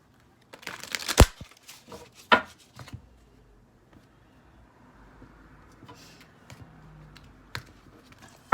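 Tarot cards shuffled by hand in a quiet room, a burst of crisp riffling and slapping early on, then softer intermittent card handling with a few sharp snaps.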